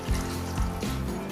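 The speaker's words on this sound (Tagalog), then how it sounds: "pwede na nating lagyan ng sabaw. Yung ating sabaw ay tubig." Water poured from a container into a cooking pot to make broth for batchoy, a steady close trickle and splash running without a break.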